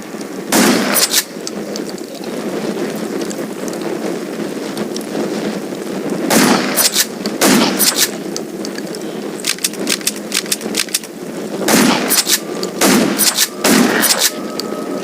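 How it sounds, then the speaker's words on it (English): Bursts of gunfire against zombies in the video game Undawn, with several clusters of sharp shots, some rapid and repeated, over a steady ambient background. "Gunshots will attract him."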